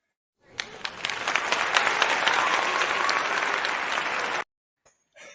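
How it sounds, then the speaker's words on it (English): Canned applause and cheering from a crowd, played as a sound effect on a live late-night radio call-in show. A sustained, dense burst of clapping runs about four seconds and then cuts off abruptly. "I got some applause for you."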